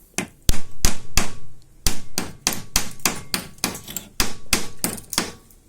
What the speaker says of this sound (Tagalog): That's the flux. So you have to chip that off.